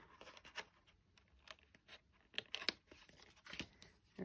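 Scissors snipping paper for a handmade journal, a series of faint, close, crisp cuts and paper rustles in irregular bursts, with no talk.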